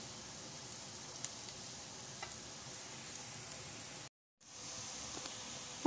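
Bitter gourd (karela) frying in a pan, a steady close sizzle with faint stirring ticks, dropping out briefly for a moment before the frying hiss resumes.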